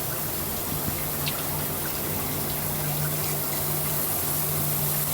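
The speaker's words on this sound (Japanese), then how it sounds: "これ今シャワーしてる。" Water spraying hard from a shower hose during a firing job, a loud, continuous hiss and gush close by, steady throughout with no talk.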